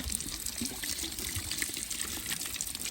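Water trickles and splashes steadily from an outdoor water supply at an allotment plot, a faint continuous hiss with small droplet sounds.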